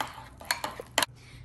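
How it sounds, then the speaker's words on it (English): Snack ingredients stirred together in a bowl with a spoon, giving a few sharp clinks and scrapes of utensil against dish, fairly close, with a quiet pause between strikes. "And now I'm just gonna mix it all together."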